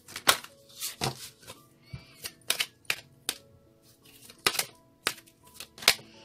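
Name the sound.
shuffling cards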